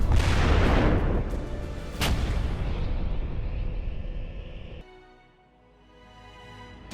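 Paladin self-propelled howitzer firing: a heavy, loud boom at the start, a second sharp blast a couple of seconds later, and a long rumbling decay fading into quiet.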